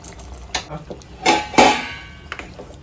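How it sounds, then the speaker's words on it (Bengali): Chicken curry stirred in a pan after black pepper powder goes in, a few scraping, clattering spoon strokes with louder bursts in the middle over a soft background sizzle; no talking. "গোলমরিচ গুঁড়োটা দিয়ে আমি ভালোভাবে নেড়ে চেড়ে নিচ্ছি।"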